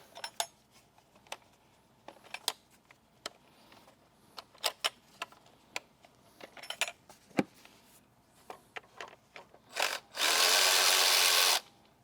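Coil pack bolts on a BMW M62TU V8 engine being undone, with scattered metallic clicks and taps of handling parts, then a loud close burst of a power tool whirring for about two seconds near the end.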